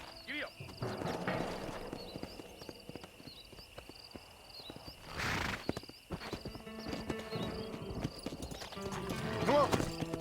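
Horse hooves clip-clopping in Red Dead Redemption, with a neigh partway through, mixed with a character voice and game effects at moderate, uneven loudness.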